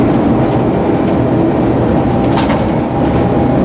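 A Dhaka–Narayanganj commuter train running, a loud, steady, close rumble of wheels and engine with a faint rattling hiss rising briefly midway, no talk.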